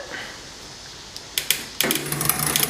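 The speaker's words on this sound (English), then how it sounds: "So I'm going to just keep pedaling here and just keep tightening it" Bicycle chain clicking and rattling over the cassette as the pedals turn while the derailleur is adjusted, quiet at first, then a dense run of close mechanical ticks.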